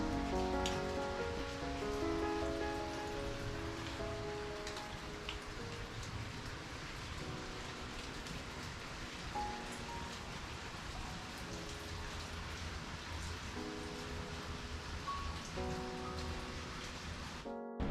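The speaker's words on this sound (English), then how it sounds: "Hear water pouring down the back of the cave." Continuous splashing water pours and drips inside a cave on Trail 5 at Clifty Falls State Park, a dense, even patter like heavy rain that holds steady and fairly faint throughout, with no voices.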